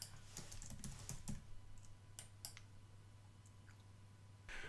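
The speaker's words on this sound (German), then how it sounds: "schauen Sie, wie er da ein bisschen rumklickt" Computer keyboard and mouse clicking while someone tests an HTML form, with a cluster of quick light taps and clicks early on, a few more scattered clicks later, and a faint steady hum underneath.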